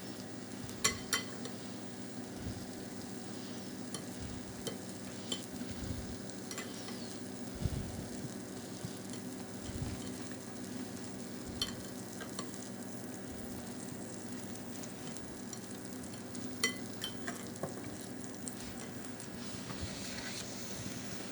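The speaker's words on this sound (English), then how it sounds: "And then we're going to pan fry it, not too hot." Slices of brioche French toast pan fry over moderate heat, a faint, steady sizzle with occasional soft clinks and scrapes of a utensil against the pan.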